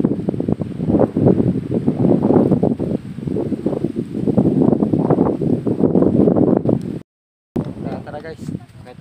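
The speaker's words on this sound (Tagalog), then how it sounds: "Napakalakas ng hangin dito. At malamig." Strong, cold wind at a hilltop view deck buffets the microphone in a constant loud roar with gusty surges, briefly cutting out near the end.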